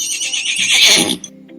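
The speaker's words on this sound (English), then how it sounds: "Do you want to listen a sound of a horse?" A horse gives one loud, close neigh, a rising shrill whinny that breaks into lower snorting and fades after about a second, followed by quiet.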